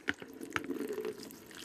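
Vegetables are lowered with tongs into a container of cold water, giving quiet drips and small splashes with a soft liquid wash between them, faint and close by.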